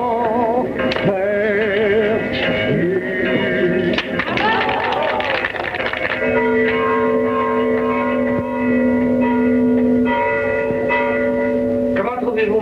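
Slightly cracked church bell chimes ring out with sustained tonal strikes and lingering hum, mixed with background music and voices throughout.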